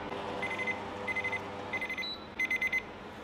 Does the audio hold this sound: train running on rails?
no